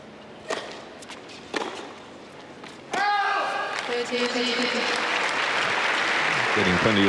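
Crowd applause at a US Open 2003 first-round tennis match between Kim Clijsters and Amber Liu: after a few sharp ball strikes, clapping swells abruptly into sustained, loud applause with a commentator talking over it.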